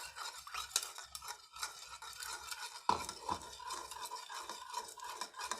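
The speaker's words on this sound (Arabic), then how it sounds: "هنقلب بقى المكونات دي كلها كده بالشكل ده لحد ما يدوبوا خالص." Spoon stirring soy sauce substitute ingredients in a kitchen bowl until they dissolve, a soft continuous scraping with light clinks against the dish, fairly quiet and close.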